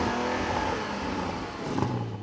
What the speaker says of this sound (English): Large diffuser and twin exhaust pipes which sound phenomenal.